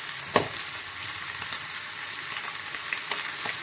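Snails frying in a pan for a Bengali spicy curry, with a steady, bright sizzle throughout, broken by a few soft scrapes and knocks as they are stirred, close and loud without any talking.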